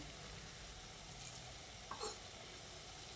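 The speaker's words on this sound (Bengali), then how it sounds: "গ্যাসের ফ্লেমটাকে লো টু মিডিয়ামে করে পকোড়াগুলোকে এইভাবে নেড়ে চেড়ে ভেজে নিতে হবে" Egg and potato pakoras fry in oil over a low-to-medium gas flame, giving a steady faint sizzle with a couple of brief stirring clinks partway through, no voices.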